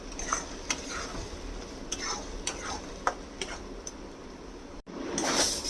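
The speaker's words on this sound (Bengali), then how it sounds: "এটাকে এবারে নাড়তে থাকবো একদম শুকিয়ে নাও এটাকে" Bottle gourd peel is stirred in a pan until dry, giving soft scraping and light clicking strokes at an irregular pace over a faint low sizzle, with a brief louder hiss near the end.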